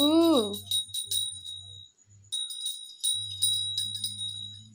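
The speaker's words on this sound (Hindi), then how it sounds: "आप घंटी बजाओ ना, घंटी बजा दो" A small prayer bell rings repeatedly with a bright, sustained metallic tone during worship, briefly pausing midway, while a voice is heard at the start.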